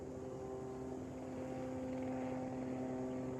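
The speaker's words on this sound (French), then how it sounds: "Un avion. On va attendre qu'il parte." An airplane passes overhead outdoors, a steady droning engine hum with a low propeller-like tone that holds evenly throughout, fairly quiet and distant, with no one speaking.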